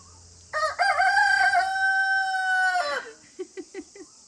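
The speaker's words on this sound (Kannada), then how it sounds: "ನೋಡಿ ಇವಾಗ ನಮ್ಮ ಕೋಳಿನ ಹೇಗೆ ಕೊಕ್ಕೋ ಮಾಡಿಸ್ತೀನಿ ಅಂತ." A pet rooster crows loudly and close by in one long drawn-out call, followed by a few short clucks.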